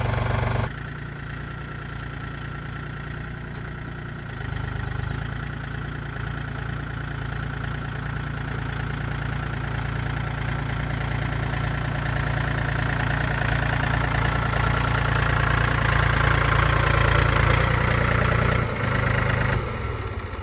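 A Mahindra tractor engine runs in gear after a front wheel hub repair. It gives a loud, steady, low mechanical drone that holds throughout with only slight swells and no voices.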